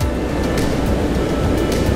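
Surf waves crashing and washing onto the shore in a steady, continuous roar of white water, close and loud with no voices.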